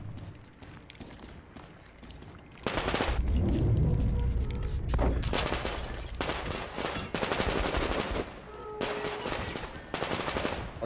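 Bursts of rapid gunfire in the video game Metro Exodus crackle in and out over a dense, noisy background, with scattered thuds and footstep-like clatter.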